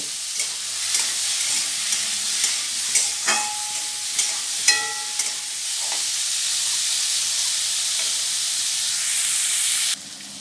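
Bean seeds stirred and frying in a pan, a steady close sizzle with repeated scraping clicks of the spoon through the first half, then continuous frying hiss.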